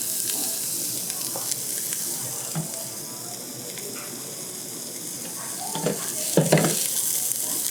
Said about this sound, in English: We're already getting a good sizzle on that.